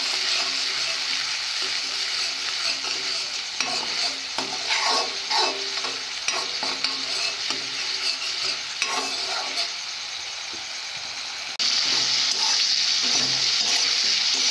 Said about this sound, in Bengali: নেওয়ার পর কড়াতে দেব। দিয়ে এইভাবে কষে নেব।